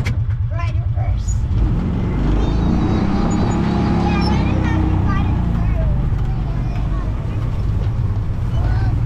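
A Kawasaki Mule 3010 utility vehicle engine drones and rumbles up close after a tune-up while it drives, with speech over it.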